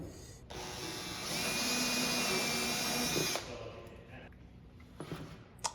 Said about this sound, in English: I'm drilling a hole for the wire for the back camera.